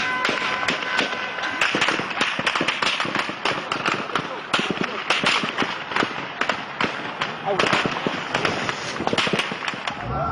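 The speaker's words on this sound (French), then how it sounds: "L'armée réplique à l'arme automatique." Automatic weapons fire as the army shoots on protesters during the Benghazi uprising: a loud, dense, continuous crackle of rapid cracks and pops lasting throughout, with no gaps.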